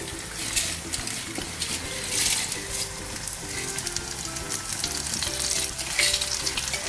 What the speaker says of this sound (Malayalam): അപ്പോൾ അതിലേക്ക് നമുക്കിനി അരിയിടാം.